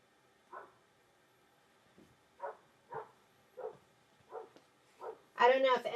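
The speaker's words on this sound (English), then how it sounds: "he's a dog that loves the sound of his voice" A dog barks in a string of short, fairly quiet barks spaced roughly half a second apart, ending in a louder, sharper bark at close range.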